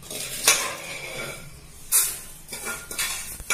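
Mint leaves fry in hot ghee while ghee rice is being made, a soft sizzle under sharp clinks of a metal spoon against the pan, a few distinct strikes with quieter stirring between.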